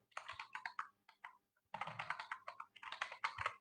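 Bursts of quick keystrokes on a computer keyboard as an email address is entered, two clusters of close, crisp clicks separated by a short pause, heard alone in a quiet room.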